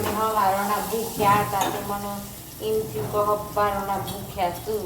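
Leftover roti being tempered and stir-fried in a home kitchen pan, with steady sizzling and stirring running beneath near, continuous conversation.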